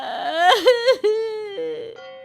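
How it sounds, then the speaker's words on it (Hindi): A woman cries loudly in a few close, rising and falling wails that bend and break between sobbing tones, with no background noise. "और जोर से रोने का टेप शुरू कर देती है।"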